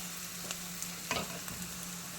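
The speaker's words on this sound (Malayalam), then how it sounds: "ഇനി ഇതിലേക്ക് നമ്മൾ ചതച്ച് വെച്ചേക്കുന്ന അരപ്പിടാം." Crushed spice paste for a jackfruit thoran is added to a pan on low flame and fries with a steady soft sizzle, a few faint stirring scrapes cutting through.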